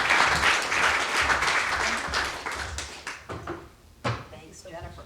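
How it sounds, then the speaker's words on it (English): An audience applauds to welcome a speaker to the stage at a climate disinformation event. A loud, dense burst of clapping fades over about three seconds into a few stray thumps and knocks, with a voice starting near the end. "Please join me with a warm round of applause"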